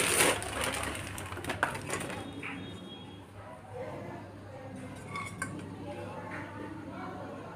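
Metal pressure cookers and lids from a Butterfly induction-base set are unboxed, with scattered clinks, clatters and rustling knocks at close range, fairly faint, over background hiss.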